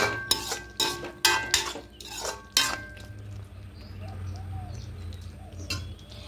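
Ghee is stirred into a potato and pointed gourd curry in a pot: a few sharp metal clinks of a spoon against the pot come close, then quieter clatter follows with a bird faintly audible in the background.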